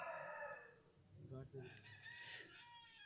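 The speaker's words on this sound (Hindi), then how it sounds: "मुर्गा बाग देने लगा, अब सुबह हो जाएगी।" A rooster crows in the middle of the night, one drawn-out crow close by, followed by faint clucking and a person speaking softly nearby.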